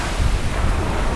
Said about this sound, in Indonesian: ombak di laut, tepatnya di pantai Teluk Bayu, Desa Kayu Menang